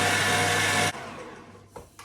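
An electric mixer whirs loudly and steadily, blending cream cheese with icing sugar for about a second before it cuts off, leaving a quieter room tone and a couple of faint knocks near the end.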